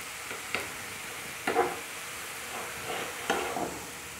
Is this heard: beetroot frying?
yes